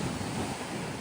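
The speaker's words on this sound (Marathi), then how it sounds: "खतरनाक खतरनाक लाट येत आहेत" Rough sea waves surge against a shore, heard as a continuous broad roar of churning water mixed with wind buffeting the microphone, steady and loud with no voices.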